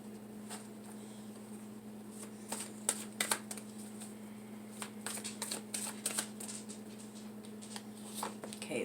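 Tarot cards shuffled by hand close up, a quiet run of crisp riffling bursts and flutters in irregular clusters over a steady low hum.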